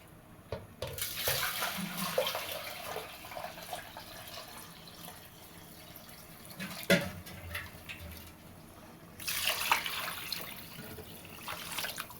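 Water is poured into a pot of rice for biryani, a splashing gush that runs in two bursts with quieter trickling between them.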